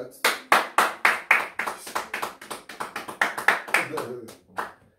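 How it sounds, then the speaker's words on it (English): Church congregation applauding a preacher, a burst of rhythmic close hand claps that loosens and fades after a few seconds, with voices mixed in. "Round of applause for him."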